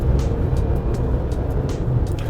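Toyota RAV4 Hybrid pulling away under acceleration, its engine and motor giving a subdued, steady low hum with road noise, fairly quiet and without speech.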